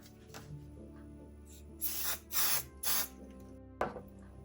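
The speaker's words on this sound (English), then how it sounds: "So I'm just spraying." Three short hissing bursts from an aerosol spray can in quick succession, close by, followed by a small clack, over a quiet background hum.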